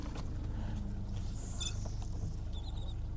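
An outboard boat engine idles on the open water of Tampa Bay near the shipping channel, a steady low, close rumble with faint splashing and a few brief high chirps over it.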